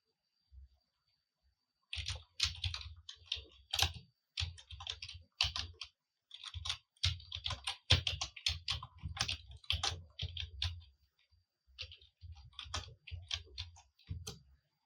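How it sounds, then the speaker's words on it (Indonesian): Code being typed on a computer keyboard into a terminal, crisp close key clicks in irregular bursts separated by short pauses, with no other sound between strokes. "di terminal itu kita ketikkan kode untuk menginstalnya"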